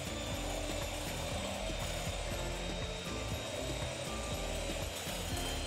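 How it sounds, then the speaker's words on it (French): An electric whisk beats two egg whites for protein pancakes, giving a loud, steady mechanical whirr with a fast rattling pulse that runs unbroken throughout, with no talking. "Ensuite, on va venir battre les 2 blancs en neige."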